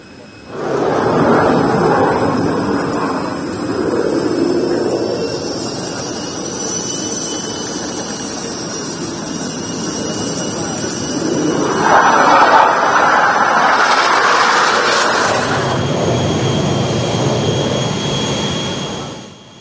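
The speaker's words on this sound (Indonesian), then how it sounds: "Pesawat Kerajaan Jordania Hashimiyah mendarat di Lanut Halim Perdana Kusuma pada Jumat sore kemarin." A Jordanian royal jet lands at Halim Perdana Kusuma airbase, its engines roaring loud and steady, with the roar rising and shifting in pitch through the landing before easing off near the end.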